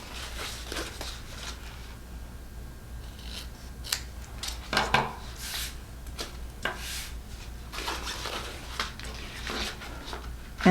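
Scissors snip loose thread ends off a sewn seam of a fabric mask pouch, a series of close, crisp cuts and small fabric rustles in a quiet room, with a sharper cluster of snips midway.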